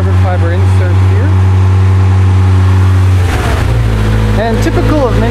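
Race-prepared Toyota Corolla Levin AE86 twincam, cold and idling roughly, a loud, close, uneven engine drone that shifts pitch partway through, with someone talking over it.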